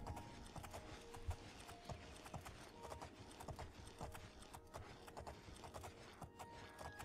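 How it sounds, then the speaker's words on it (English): Horse hooves clip-clop at a steady gallop in The Elder Scrolls IV: Oblivion, a continuous rhythmic thudding heard alone and fairly close at moderate volume. "Let's go back on the horse."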